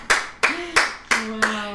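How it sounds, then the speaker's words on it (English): Five sharp, separate hand claps at an uneven pace, close and loud, with a brief hum in between. "Let's give her a round of applause."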